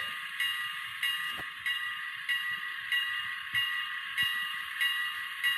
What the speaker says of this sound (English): And just your normal engine sounds.